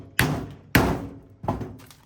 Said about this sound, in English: you're going to want to take your fan and just hit it with your hammer a bunch of times so it's not working